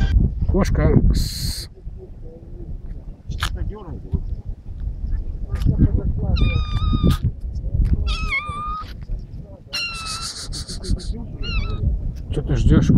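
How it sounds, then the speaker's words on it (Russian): Several drawn-out cat meows come through amid talking and rough outdoor background noise. "Что ты ждешь, кошка?"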